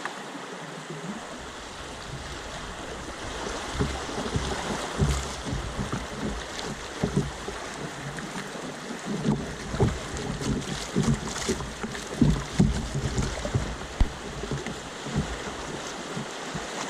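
Canoe paddling on a river in New Brunswick, heard as soft, irregular water splashes and paddle strokes close by over a steady wash of moving water and light wind noise, with no talking.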